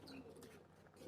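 A pigeon coos softly and briefly, faint and close, with no talk.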